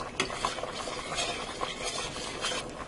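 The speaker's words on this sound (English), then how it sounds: "I want to stir that up well. And blend in that flour and margarine in there." Flour and margarine being stirred together in a soup pot, a quiet, steady scrape of spoon against metal with a few sharper clinks, close by and without talk.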